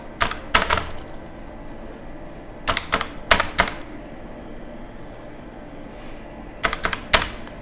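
Someone types a mobile number on a computer keyboard to enter it into a customer portal. The keystrokes come in three quick, close bursts separated by quiet pauses.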